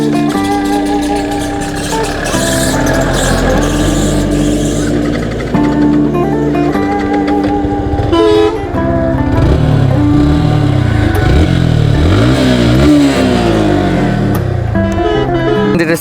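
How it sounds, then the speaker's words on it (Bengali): A Yamaha R15 V3 motorcycle engine runs steadily and loud up close, with rising and falling revs in the second half, no talk over it. "এটার ইঞ্জিনের যে এটার সাউন্ডটা, এটা আমার কাছে পার্সোনালি খুব ভালো লাগে"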